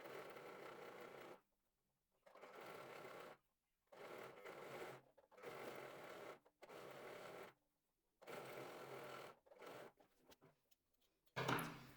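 A sewing machine stitches lace trim onto fabric for lingerie, running in about six short, close, loud bursts of rapid mechanical whirring separated by brief silent pauses, with no talking.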